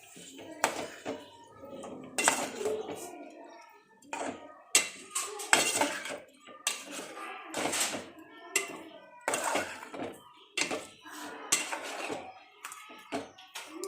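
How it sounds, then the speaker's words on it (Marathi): Marinated prawns tipped into a pan and mixed with a spoon, bringing repeated close metallic scrapes and clanks of utensil on cookware in an irregular rhythm, with faint voices in the background. "आता यात आपण मॅरिनेट केलेली कोलंबी टाकूया आणि नीट मिक्स करून घेऊया"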